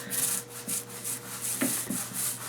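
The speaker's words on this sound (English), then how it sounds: "The weenie roller is giving me some excellent coverage." Small foam roller spreading glue on wood veneer for a 1967 Gibson EB-0 bass body, giving a rhythmic series of soft, wet rubbing strokes, about ten even passes, close and steady with no talking.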